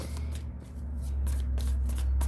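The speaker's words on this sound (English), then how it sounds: "I shuffled again, and we still have judgment here." Tarot cards shuffled by hand, a close, crisp run of riffling and flapping bursts that comes in quick uneven pulses with no talking.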